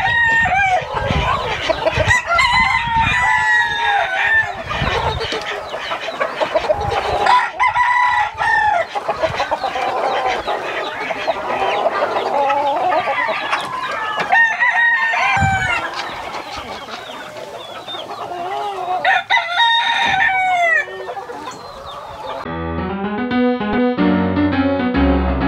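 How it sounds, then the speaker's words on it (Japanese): Pet chickens cluck and crow loudly in a busy, continuous mix of calls close by, with brief sharp tonal sounds at the very end. "その最初に拾った鶏っていうのがこちらに今いるペンちゃんです"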